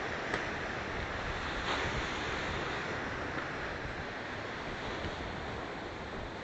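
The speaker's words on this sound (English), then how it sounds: "I don't know if I'm yelling because the waves are kind of loud." Loud ocean surf crashes steadily against the shore, a dense, continuous roar with wind buffeting the microphone and no voices.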